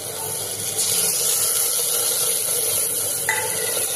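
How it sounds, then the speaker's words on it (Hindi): Water poured into onion and garlic paste frying in a pan sets off a loud, steady hiss of sizzling and steam that continues throughout, with a brief clink near the end and no one talking. "अब इसी में हम डाल देंगे थोड़ा सा पानी।"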